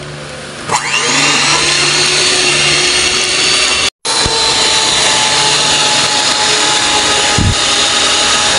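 An electric mixer whips Nestle cream in a bowl, a loud steady whirring drone close by that cuts out briefly and starts again, with a faint clunk near the end.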